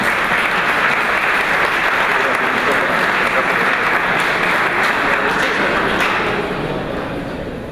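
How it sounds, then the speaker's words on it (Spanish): An audience at a lecture on the Popocatépetl volcano gives loud, sustained applause to welcome the speaker, thinning slightly at the very end. "Recibámoslo con un fuerte aplauso."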